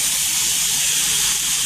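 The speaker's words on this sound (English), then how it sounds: "And now I will put my liver and gizzard" Chicken liver and gizzard hit a hot pan with a loud, continuous hiss of frying, steady and close, with no voices.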